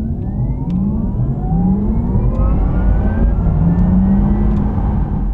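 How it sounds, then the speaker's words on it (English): Synthetic electric sport sound inside a Porsche Taycan Turbo in Sport Plus mode under full-throttle acceleration, a loud steady whirring drone with layered tones sweeping continuously upward, no voices. "Sport plus by default has the loud electric sport sound on the inside"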